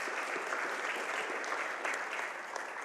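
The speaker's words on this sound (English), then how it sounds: "So all that applause goes back to you" Steady audience applause fills the room at a storytelling event, dense and even throughout with no voices over it.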